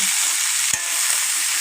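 Silkworm pupae and onions fry in oil in a pan, producing a loud, constant close-up sizzle with one brief knock partway through and no voices.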